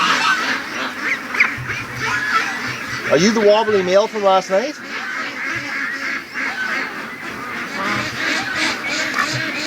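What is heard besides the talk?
ducks calling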